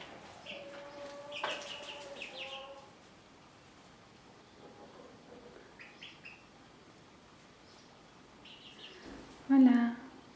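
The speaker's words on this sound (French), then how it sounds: "je vous montre les poussins" Young chicks in their pen give a few clear high peeping calls, a burst early on, fainter chirps midway and a louder one near the end, amid low background noise.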